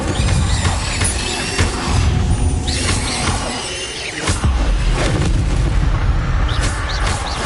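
Incendio fire spell cast repeatedly in Hogwarts Legacy, bursting and crackling with loud whooshing blasts and impacts that run continuously with a few stronger hits, no voices.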